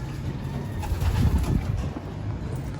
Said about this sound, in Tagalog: Si Machoco ang first na ibon dumating.